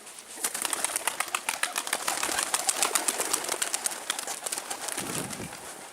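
Pigeons released into the air make a dense, close flurry of wing flaps and claps that continues steadily with no talking.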